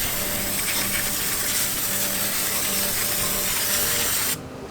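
Brake cleaner sprayed onto the drum brakes of a Jeep Patriot, a steady loud hiss that runs unbroken for several seconds and then cuts off abruptly.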